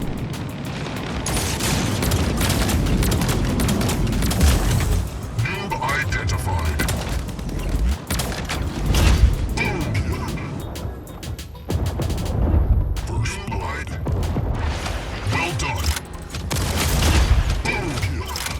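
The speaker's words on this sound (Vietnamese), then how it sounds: "tia trọng lực là dạng chùm tia sát thương nổ khỏe" A gravity beam weapon in Mech Arena keeps firing in loud, dense bursts of explosive booms, with rapid crackling blasts coming in waves under someone talking.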